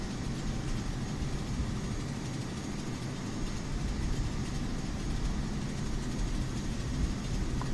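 A steady, dense engine roar of an Airbus A320 in flight in Microsoft Flight Simulator, continuing without pause at a constant level.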